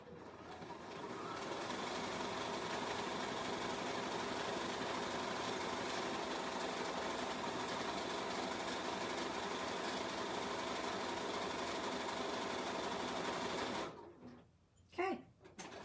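A BERNINA sewing machine stitches a corded buttonhole with a steady, rapid mechanical chatter that runs unbroken for about fourteen seconds, then stops and leaves faint handling sounds.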